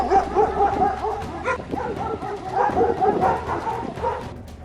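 A stray dog in Greater Noida barks, yelps and whimpers in an agitated, irregular burst during an attack, close and loud, with scuffling and commotion around it.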